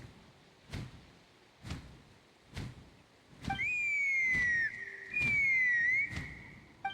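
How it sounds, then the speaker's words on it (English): In Genshin Impact, a long, clear two-part whistle sounds over a steady run of thumping footsteps or beats, each whistle falling slightly in pitch and lasting about a second. "That sounded like a whistle."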